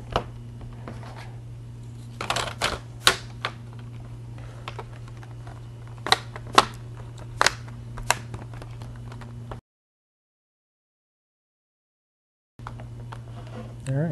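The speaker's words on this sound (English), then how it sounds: "Let's go ahead and snap the bezel back on." A plastic screen bezel on an Acer Aspire 5551 laptop is pressed back into place, giving a series of small sharp clicks and snaps over a steady hum, followed by a brief silence.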